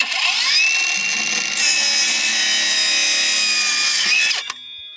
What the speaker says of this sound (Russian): Сейчас пойдем на улицу, найдем досточку и распилим.